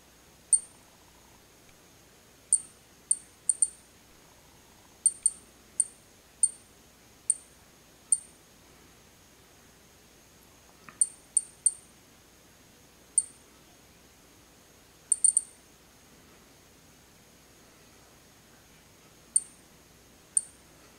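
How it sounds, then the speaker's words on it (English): Polimaster 1208M radiation dosimeter clicking as a sample is brought near, sharp isolated clicks at irregular intervals, sometimes in quick pairs or triplets, loud against a near-silent background. "That is clicking, but as of yet, there's no change on the display."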